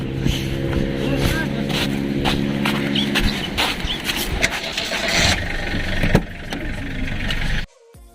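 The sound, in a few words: car engine starting to drive out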